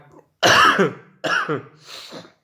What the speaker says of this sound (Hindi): थोड़ी सी खांसी की दिक्कत है लेकिन फिर भी काम जारी है।